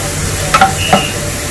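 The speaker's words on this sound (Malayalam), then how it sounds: "ഇഞ്ചിയുടെയും വെളുത്തുള്ളിയുടെയൊക്കെ ആ ഒരു പച്ചമണം മാറുന്നത് വരെ നമുക്കിത് വഴറ്റിയെടുക്കണം." Chopped ginger and garlic fry in a pan for a prawn roast, a soft constant sizzle with a couple of quick spatula clinks, close and brief.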